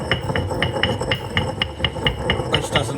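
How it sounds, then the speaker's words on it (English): Saffron strands are ground to powder with a pestle, giving a steady run of about a dozen quick, even taps, close and fairly loud over a low background hiss. "We're going to grind that up"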